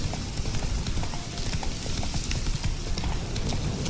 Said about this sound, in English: Come on, horse. You can run.